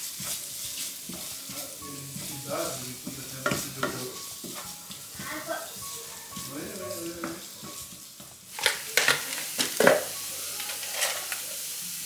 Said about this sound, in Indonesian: tumis biasa aja bumbunya.